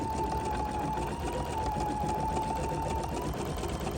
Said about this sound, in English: So here we go. We're quilting.